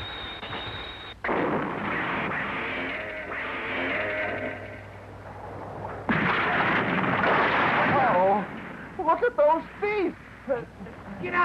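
Gunfire bursts out right after a shouted command to fire, several sharp cracks and blasts mixed with shouting voices and battle noise in a tokusatsu action scene.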